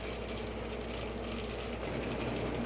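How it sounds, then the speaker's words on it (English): Honey and butter boil in a pan with a dense, steady bubbling and hiss that stays constant and fairly faint throughout, with no voices. "It sounds like my honey and butter is boiling."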